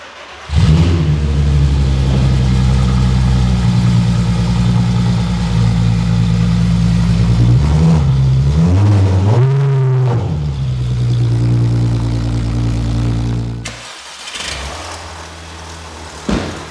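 Volkswagen Scirocco R with half an exhaust fitted, engine running loud and close on a ramp, steady idle rumble broken by blips of revs around the middle before it cuts off, then settles back to idle.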